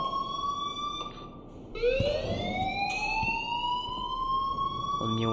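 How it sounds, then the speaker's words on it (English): A rising, wailing school alarm in the video game Life Is Strange sounds loudly and steadily, its pitch climbing after a brief dip, with an electronic ringing tone running throughout. "please turn off that alarm since that's your job."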